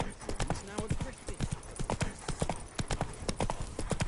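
Horse hooves clip-clop steadily along a road in the Witcher video game, a brisk, close, even rhythm of hoofbeats running throughout while someone speaks over them.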